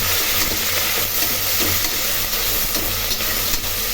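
Onions sauté in a pan with curry leaves and green chillies, a constant close hissing sizzle with faint stirring, loud and unbroken throughout.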